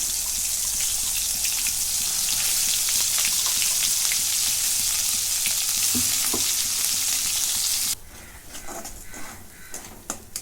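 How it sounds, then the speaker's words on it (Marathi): Ground masala paste fries in a pan, a loud, steady, close sizzle that abruptly drops to a quieter crackle with stirring scrapes after about eight seconds. "वाटण हे चांगलं भाजून घेते"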